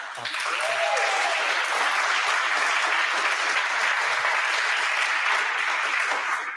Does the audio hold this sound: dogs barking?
no